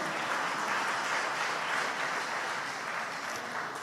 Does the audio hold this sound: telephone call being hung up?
no